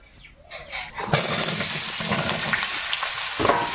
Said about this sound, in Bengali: সব সবজি এখন একটু লবণ হলুদ দিয়ে ভাজতে হবে।